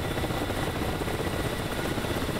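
Steady, close helicopter rotor and engine drone, a continuous broadband roar heard alone without any talk, tied to an air force squadron's landing exercise.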